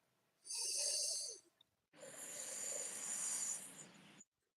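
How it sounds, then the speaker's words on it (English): Hissing breaths drawn in through clenched teeth as a yoga breathing exercise, two long airy inhalations with a short pause between, close and fairly loud, no talking. "clench your teeth and breathe in through your teeth"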